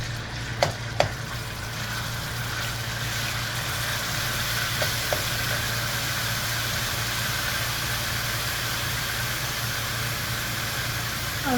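Onions fry in a pan for a fish curry, making a steady, even sizzle close by, with a few light clinks of a utensil near the start.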